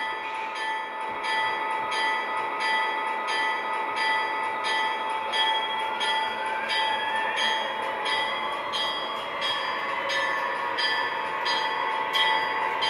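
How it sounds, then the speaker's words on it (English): Model railroad locomotive bell ringing in a steady, rapid repeating clang over a continuous tonal hum, loud and close, with no talking throughout. "And turn on the bell."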